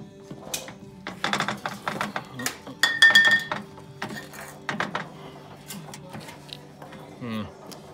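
A snowblower axle wheel on an Ariens Deluxe Platinum Pro is spun by hand, giving a run of close metallic clinks, ratcheting clicks and rattles. A person talks in between.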